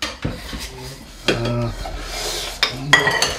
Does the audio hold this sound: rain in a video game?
no